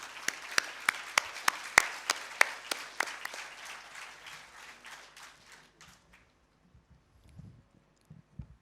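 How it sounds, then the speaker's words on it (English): A round of applause for a dancer and her guru at a Rangapravesh performance, starting with sharp, fairly close individual claps over a wider patter, then thinning and fading out before a few faint murmurs. "A very loud round of applause for Ushika and her guru, Simran Gurwani ji."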